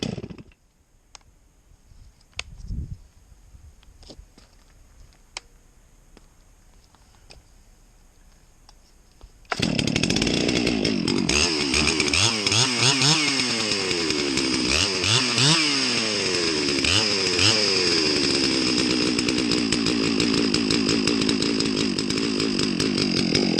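A Farmertec MS 660 chainsaw fitted with a modified muffler sits quiet with faint clicks before firing up after about ten seconds, then roars loudly and steadily outdoors, its pitch rising and falling with throttle blips for the rest.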